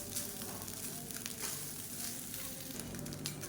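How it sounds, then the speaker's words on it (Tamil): Cooked rice sizzles softly in a hot pan as it is mixed and heated for a lunch-box dish, a steady, faint crackle without talk. "நல்லா கலந்து விட்டுட்டு கொஞ்சம் சூடு ஏறட்டும் இந்த சாதம்"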